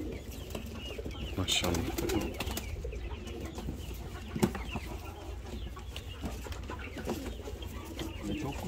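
Pigeons in a loft of newly acquired birds, their cooing and fluttering a steady low bed throughout, with a person talking quietly close by.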